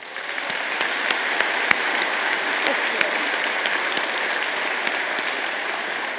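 Audience applause at a BCIT graduation convocation for an award recipient, a dense, even crowd clapping that holds steady throughout at fairly loud level.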